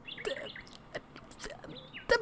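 Oversized birds in the Adiboo children's game give a few short, bright chirps and tweets, scattered and fairly close over a quiet background.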